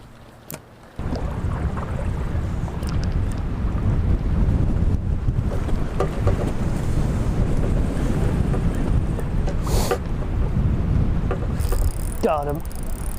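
Strong wind buffets the microphone at a pond during smallmouth bass fishing, a loud, steady roar that starts abruptly and continues throughout, with faint water sounds beneath it.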